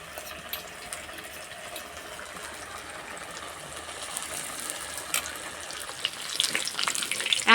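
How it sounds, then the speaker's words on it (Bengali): Potato and wheat-flour snacks deep frying in hot oil, several pieces at once, giving a soft, continuous bubbling sizzle that grows slightly louder toward the end, with no talking. "একসঙ্গে অনেকগুলোই ভাজা যাবে"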